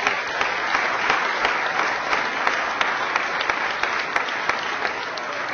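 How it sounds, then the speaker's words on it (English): Loud, sustained applause at a mayor's press conference on school district funding, with dense clapping and a few sharper individual claps standing out. "big round of applause."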